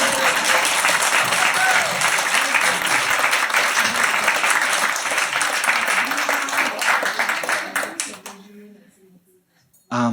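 An audience at a medical teaching course in Bled breaks into a full round of applause that carries on for several seconds and then fades out, followed by a short silence.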